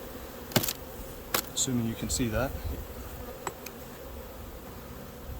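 Honey bees buzz around an open hive during a late-February inspection, a steady low hum under a few sharp clicks and brief bursts of quiet speech.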